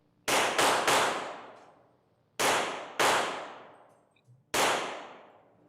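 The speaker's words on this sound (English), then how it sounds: "just shooting a couple of rounds, a couple of controlled pair here and there" Handgun shots in defensive shooting practice ring out sharp and loud: a quick burst of three, then a pause, a controlled pair, and one final shot, each decaying with echo.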